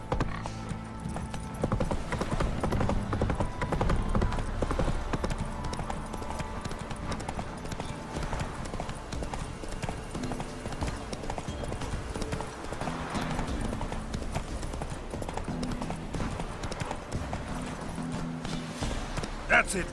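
Roach, the horse in The Witcher 3, ridden at pace with rapid continuous hoofbeats, under speech and ambient game music throughout.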